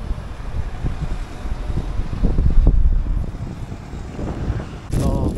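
Wind blows steadily by the sea in Korea, a continuous breezy rumble buffeting the microphone and swelling in the middle, with a brief harsher gust near the end.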